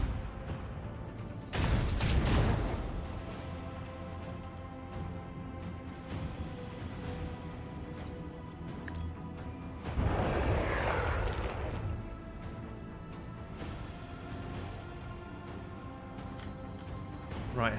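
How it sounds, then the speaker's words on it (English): Starship lance batteries firing a volley in the Rogue Trader space combat game, heard as two heavy booming bursts a few seconds apart over a steady droning engine and music bed, moderately loud and with no voices. "Lance batteries! Volley!"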